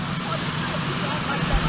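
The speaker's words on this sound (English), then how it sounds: "you have a helicopter that's raging back" A helicopter departing the White House roars nearby as a steady, loud engine and rotor drone that fills the clip, with speech faintly under it.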